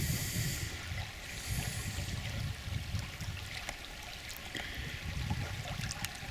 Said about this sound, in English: Water's still running clear.